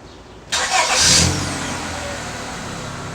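A Chevrolet Trailblazer engine cranks briefly after crank sensor work, then catches and revs up loudly before settling into a steady idle.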